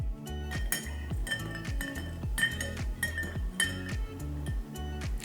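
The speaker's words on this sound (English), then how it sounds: "I'm gonna mix it a little bit." Spoon clinking repeatedly against a glass while stirring a RumChata cocktail, bright rapid metallic tings in a quick irregular rhythm, close and fairly loud.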